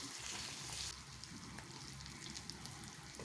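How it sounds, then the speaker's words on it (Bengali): Chopped onion, garlic paste, ginger paste and tomato fry in hot tempering oil with whole garam masala and cumin, a steady close crackling sizzle that is louder at first and then settles to an even hiss. "ফোড়নে দিয়ে পেঁয়াজ কুচি দিলাম, রসুন বাটা, আদা বাটা, টমেটো কুচি"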